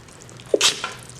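One quick, sharp human sneeze, close and fairly loud, with a short breathy intake before it, heard in a home kitchen during baking.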